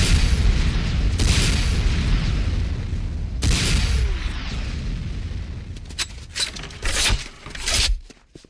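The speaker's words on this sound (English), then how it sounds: "Next up is the Sarkozy 66mm type R12 Locust automatic rocket launcher" Rocket launcher fire and blasts from the Sarkozy 66mm R12 Locust automatic rocket launcher in Command & Conquer Renegade commando training: heavy booming bursts with rumbling tails, then a run of sharper, shorter shots and impacts toward the end.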